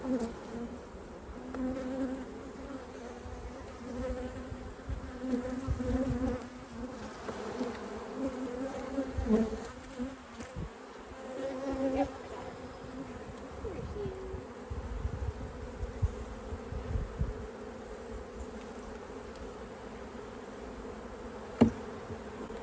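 Dense, steady buzzing of many honey bees close by at an apiary, droning continuously with occasional soft voices in the background.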